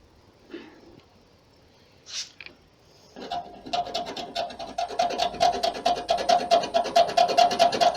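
Rust spots on a car body are sanded down to the primer and the clear coat stripped away. After a quiet start, a steady, close rasping of rapid back-and-forth strokes builds and grows louder.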